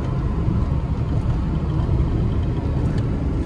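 A car driving along a cement road on the Chiplun to Sangameshwar Goa highway gives a steady, loud low rumble with vibration, continuous throughout with no talk.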